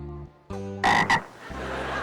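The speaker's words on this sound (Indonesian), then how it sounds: "Kodok." A frog croaks in a few loud, harsh bursts, close by, amid low droning tones and a steady background hum, with no talking over it.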